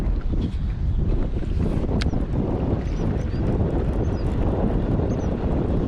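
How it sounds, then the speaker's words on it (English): Steady wind buffets the microphone out on open water while fishing from a boat, a continuous loud low rumble with a brief sharp tick near the middle. "Wind kicking up out here."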